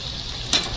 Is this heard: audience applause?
no